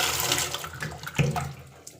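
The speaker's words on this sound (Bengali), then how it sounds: "করলাগুলো ধুয়ে নিতে হবে জলে" Bitter gourds washed in water make brief close splashes and trickling, with a few sharp sloshes and knocks over two seconds.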